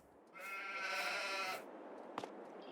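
Sheep bleat in a farm simulator video game, one long wavering bleat lasting over a second, fairly close and clear, followed by a quiet pause with a brief soft knock.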